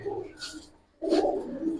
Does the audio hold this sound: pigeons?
yes